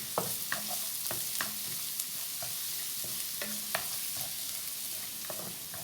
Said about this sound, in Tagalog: stir fry a bit